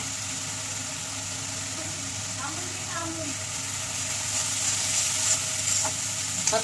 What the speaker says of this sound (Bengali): লবণ দিয়ে বেশ করে কষাবো